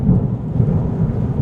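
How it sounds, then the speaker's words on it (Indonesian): Thunder rumbling through a night storm, a deep continuous roll that fills the short moment, loud and close with a hiss like rain beneath it. "tiba-tiba terbangun karena mendengar suara guntur"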